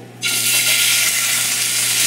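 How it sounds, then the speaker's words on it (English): Salmon fillets, laid skin side up in a hot pan, start sizzling abruptly with a loud, steady frying hiss that holds without letup. "You should hear a nice sizzle."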